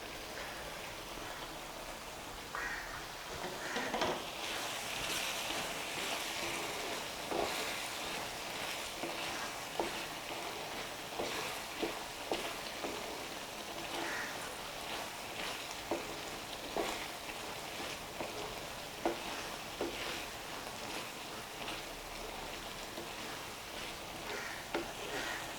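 Potato, capsicum and green peas curry gravy simmering and thickening in a pan, a steady close bubbling hiss with scattered soft pops and spatters throughout, no voices.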